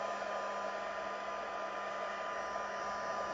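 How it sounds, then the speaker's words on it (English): A heat gun set on low blows a steady, loud, close-up whoosh while drying alcohol ink on taped-down vellum, continuous with no pauses and no talking. "I'm going to just turn this heat gun on low"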